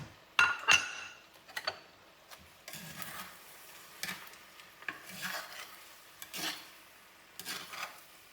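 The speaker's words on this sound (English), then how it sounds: "You'll want to keep stirring until the sauce has become thickened and everything is beautifully combined" A utensil stirs a thickened sauce in a pan during home weeknight dinner cooking, with quiet scraping and rubbing strokes, soft clinks of metal on the pan, and gentle sticky swishes close up at a low level.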